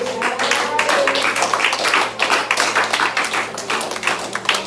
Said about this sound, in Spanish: ¿Quiere dar un aplauso?